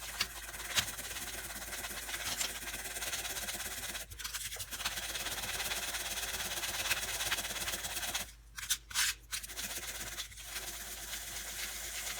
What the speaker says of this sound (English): just scrub it with a toothbrush.